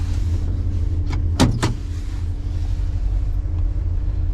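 A Squarebody Chevrolet Suburban with an NV4500 gearbox idles roughly on choke, a steady low engine rumble close by, broken by a couple of sharp clunks like a door or window mechanism.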